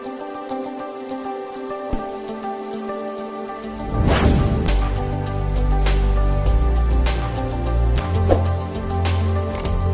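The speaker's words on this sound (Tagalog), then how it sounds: "naramdaman po natin po yung lakas po noong ulan ngayon, tapos yung pabugso-bugso pong hangin" Dense steady typhoon rain with a low rumbling wash, picking up after a few seconds, with occasional louder splashes and drips; no voices. Typhoon Pepito in Nueva Ecija, Philippines, with gusting wind.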